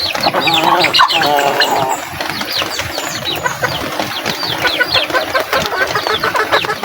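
Several laying hens clucking close by, overlapping bursts of cackling and chatter throughout, with a low engine hum underneath.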